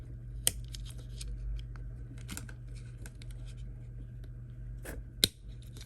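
A small screwdriver prying the panel off the back of a Mini key fob, faint quiet scraping and fiddling with two sharp plastic clicks, close up.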